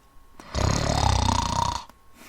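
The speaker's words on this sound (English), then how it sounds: "Mark was snoring loudly." Loud, close snoring: one long rasping, rumbling breath lasting over a second, with quiet pauses before and after.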